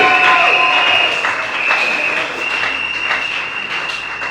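A church congregation loudly applauds and cheers to acclaim the Lord at the arrival of Patriarch Serge Fitidi at Communauté Miracle, with dense, sustained clapping mixed with raised voices throughout.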